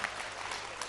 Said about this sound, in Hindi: तालियां कुछ हमारे लिए भी बजा दीजिए